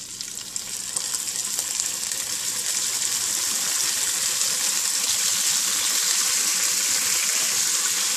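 Yogurt is added to a hot frying pan while making Kabli rice, bringing a loud, continuous, close sizzle and frying hiss that holds steady throughout.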